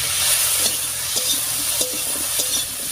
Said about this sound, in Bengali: লবণ হলুদ দিয়ে খুব ভালো করে মিশিয়ে নিয়েছি।